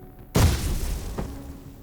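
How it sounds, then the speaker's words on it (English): A Broom Breach blast in the video game Tactical Breach Wizards, heard as one sudden loud boom that trails into a rumbling tail, with a smaller thump about a second later. "use Broom Breach, which puts her in just the right spot to blast the heavy gunner into the void"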